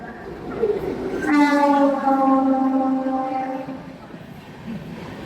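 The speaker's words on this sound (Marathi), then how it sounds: "Hadapsar railway station." A train horn sounds loudly and holds for a couple of seconds, then fades, over the rumble of a passing train at Hadapsar railway station in Pune.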